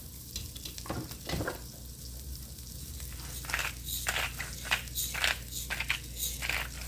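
Flour and pepper cook in a pan for Salisbury steak with a constant low sizzle, broken by scattered scraping and stirring scrapes close by, and no voices.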